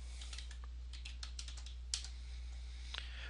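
Fingers tapping a computer keyboard while entering forex chart levels, irregular clicks in short bursts and single strokes over a low steady hum, quiet and close.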